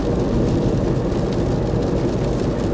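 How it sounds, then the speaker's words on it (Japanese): Steady rain patters densely on the metal roof of a Renault Twingo S, a constant drumming heard from inside, loud and unbroken. "パチパチパチパチパチパチと雨の音がね、車内に響くわけですよ"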